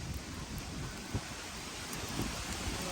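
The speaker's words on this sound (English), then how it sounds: "Y'all can probably hear all this wind kicking around us." Gusty wind buffets a microphone during outdoor cooking in a rainstorm, a dense, continuous roar with occasional thumps and no speech.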